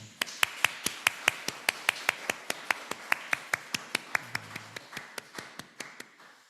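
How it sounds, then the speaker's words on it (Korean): Rhythmic clapping at a Korean church Sunday service as the congregation welcomes one another: sharp, evenly spaced claps in a steady beat, fairly close and clear, slowing and softening toward the end. "우리 옆에 있는 분들을 박수로 한번 환영했으면 좋겠습니다"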